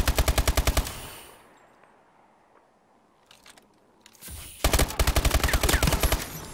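Loud, rapid automatic gunfire from a Call of Duty gunfight comes in two bursts of evenly spaced shots, separated by a quieter lull of a few seconds.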